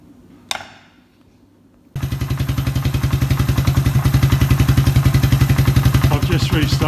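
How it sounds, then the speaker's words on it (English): A Suzuki Quad Runner 250 ATV under restoration, restarted with its mixture jet not yet set, fires up after a short quiet stretch and a sharp click, then idles loudly in a rapid, even chugging thump close by. "I've just restarted the engine without"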